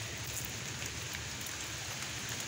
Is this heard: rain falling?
yes